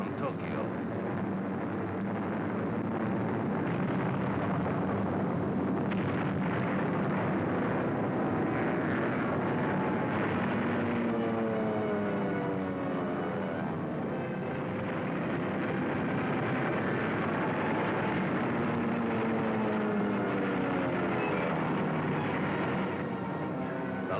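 World War II B-29 bomber in flight over Tokyo, a dense, steady roar of droning engines filling the whole stretch, with a voice narrating over it.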